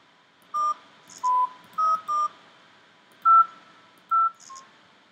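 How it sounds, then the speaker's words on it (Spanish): Telephone keypad tones from the video game Fran Bow, a series of about eight short, clear electronic dialing beeps in an irregular rhythm, standing alone over a quiet background. "Un teléfono."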